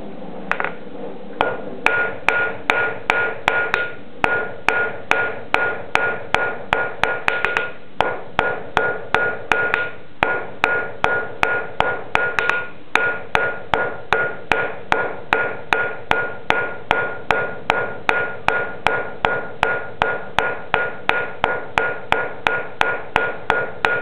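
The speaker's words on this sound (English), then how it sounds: "take your 4-sided square taper to an 8 and then 16 and so on, knocking the corners down until you achieve a round taper" A hammer forges a square taper down to a round on a hook jig, with dozens of loud, close metallic blows falling in a fast, steady rhythm and no voices.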